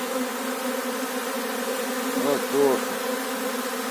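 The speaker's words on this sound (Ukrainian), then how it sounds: "як в сусіднє відділення ззаду залітає інший рій" A swarm of honeybees flying into a hive compartment, a steady dense buzzing drone with a couple of individual bees passing close by, loud and without speech.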